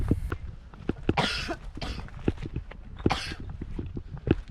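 A person coughs during the Hajj pilgrimage in Saudi Arabia: several short, close coughs in an uneven rhythm over a busy, shuffling background.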